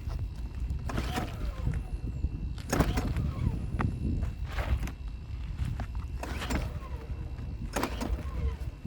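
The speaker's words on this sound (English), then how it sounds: "let's try to start it how we normally start it. Switch on, gas on, choke out." Someone repeatedly pull-starting a small engine that has no compression, with about five whirring pulls of the starter cord at a steady pace, close by, while the engine fails to catch.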